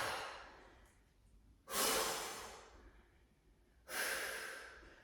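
Heavy breathing during a traditional weight training workout, two loud, sharp exhalations like forceful breaths out, each fading slowly, with quieter breathy sounds between them and no talking.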